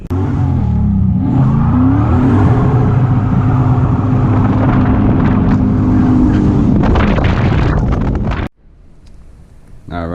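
A 6.0 engine in a Canyon truck build with new intake manifold and nitrous roars loudly and continuously, revving with wind buffeting, then cuts off abruptly near the end, leaving a quieter background.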